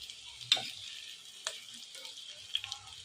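Onions sautéing in a pan for a dried-fish chutney give a soft, quiet sizzle, broken by a few sharp scraping clicks of stirring.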